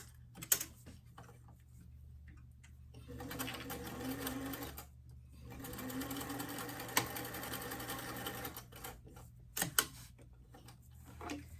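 A domestic sewing machine stitches the straight edge of a doll dress sash, with right sides together, in several quick runs of close rapid mechanical chatter broken by brief pauses and small clicks.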